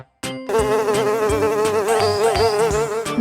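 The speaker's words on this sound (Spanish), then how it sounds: "Hoy vamos a aprender cómo se escribe y hace la mosca." Housefly buzzing in an animal-sounds segment for children: a steady, loud, close drone with a warbling pitch that starts abruptly after a short click and holds for about three seconds, with no speech.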